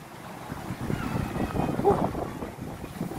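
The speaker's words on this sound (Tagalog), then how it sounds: "Lakas ang hangin oh." Strong wind buffets the microphone on a cold, exposed hillside at Tagaytay Highlands, a continuous loud rumble that swells and gusts over about three seconds.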